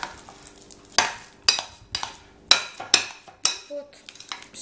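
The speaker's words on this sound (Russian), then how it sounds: "Хорошо вымешиваем." A thick bread spread mixture being stirred in a bowl with a utensil, bringing a run of loud clinking scrapes and knocks against the bowl at an uneven rhythm, up close and without any talking.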